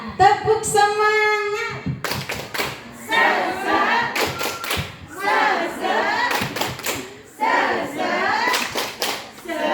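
A group of adults performs a rhythmic spirit clap in a training session, sharp synchronized claps in patterned bursts with pauses, mixed with thumps, shouts and chanting voices between the clapping runs.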